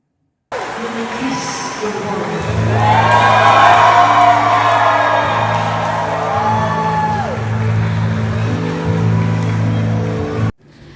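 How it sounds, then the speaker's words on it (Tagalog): Wedding guests at the ceremony of EA Guzman and Shaira Diaz erupt in loud, sustained cheering, whoops and shouts right after the kiss, a crowd roar filling the space for several seconds before cutting off abruptly. "hiyawan ang lahat"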